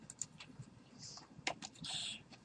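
Quiet, irregular keystrokes tap on a computer keyboard, with a few sharper clicks in quick bursts over a faint room background.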